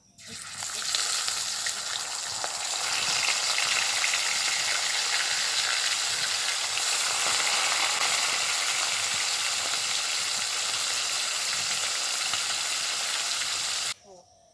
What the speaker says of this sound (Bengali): এবার বাকি মাছগুলো এই একইভাবেই ভেজে নেব।